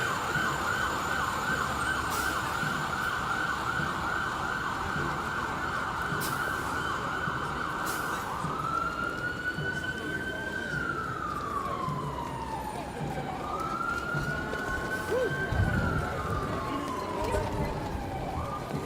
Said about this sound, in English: Frontline emergency vehicles.